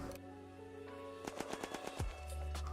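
Pro 90 PDW firing in the video game Unturned: a short burst of several rapid, sharp gunshots in quick succession, followed by a low swooping tone and a steady hum.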